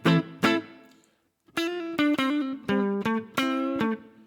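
Electric guitar played through a Roland JC-120 amp simulation with a little drive on a Digitech amp modeler: several crisp, separate plucked notes and chords with short gaps between them.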